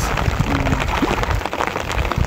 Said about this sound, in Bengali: বৃষ্টিও নামতে আছে।